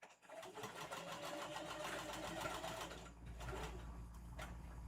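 A sewing machine stitches a puffy BOO Halloween tote bag, a quiet continuous whirring run with a brief pause before the motor picks up again.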